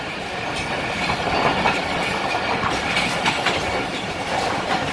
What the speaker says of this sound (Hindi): कितनी तेज गाड़ी चल रही है।